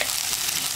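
Onions and green chilies frying in hot oil for a green gram and drumstick leaf curry, giving a dense, steady sizzle that stays loud and close without pause.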